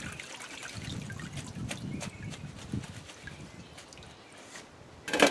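Water trickles and splashes over freshly harvested garden produce being washed, a soft continuous running-water wash with light knocks, close by and fairly quiet, with a brighter splash near the end.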